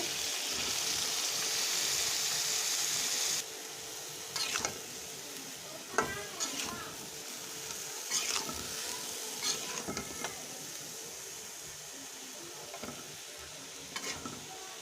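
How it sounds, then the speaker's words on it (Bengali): Taro pieces frying in spiced masala in a pan, a steady hiss at first, then softer sizzling broken by intermittent scrapes and clinks of a stirring spoon, fairly quiet and close, no talking. "মশলা কষানো শেষ, কচুগুলো দিয়ে দিব।"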